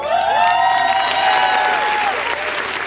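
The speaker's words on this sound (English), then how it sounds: "Make some noise for me." A live podcast audience applauds and cheers loudly, a dense continuous roar of clapping and voices with a rising whoop on top that fades slightly toward the end.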